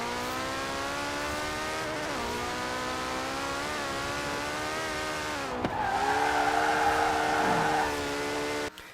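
A 1,400-horsepower car in Forza Horizon 4 accelerates hard, its engine whine climbing steadily through the gears with a brief dip at a shift, loud and continuous, with a short squeal near the end.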